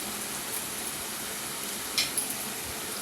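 Onions sizzle in a pan for a chicken gravy curry, a steady close frying hiss with a couple of light stirring knocks and no voices.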